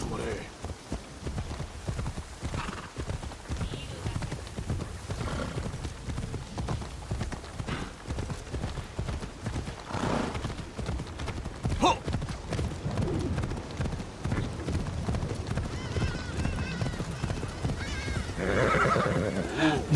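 Horses in a horse archery training ground of a video game clop their hooves continuously and whinny now and then, while someone talks over them throughout.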